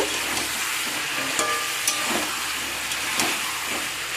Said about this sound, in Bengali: মানে মাংসগুলোকে আমি ভালো করে তেলে ভেজে নেব